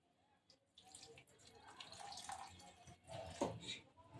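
Water poured into a pan of beet and carrot vegetable curry, a soft close splashing and trickling pour that swells and fades over a few seconds, fairly quiet.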